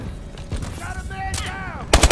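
Call of Duty: Advanced Warfare gunfire, with a short burst of loud rapid shots at the end and other battle noise with voices in the background just before it.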